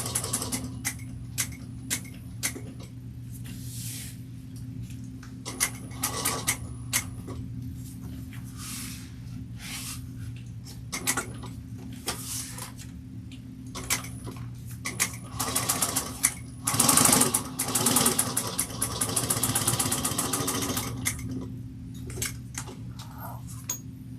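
A sewing machine runs steadily, stitching fabric for an Evie Everyday Bowler bag and back stitching a few stitches, its fast mechanical whirr continuing alone and close with brief pauses and small clicks.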